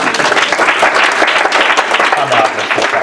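A conference audience breaks into dense, continuous clapping, loud and close for the whole three seconds, with a voice briefly audible near the end.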